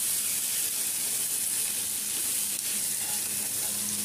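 Paneer frying in a pan for a paneer and onion sabzi, a dense continuous close sizzle with faint stirring, no talk.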